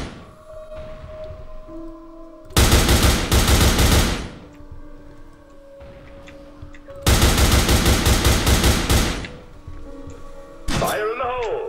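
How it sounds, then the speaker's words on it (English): Automatic M4A1 rifle fire in the online shooter game Fear Online: two loud sustained bursts of rapid shots, each about one and a half to two seconds long, followed by a brief sharp sound at the end, over a low game background. "One fucking shot from the M4A1."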